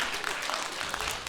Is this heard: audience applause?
yes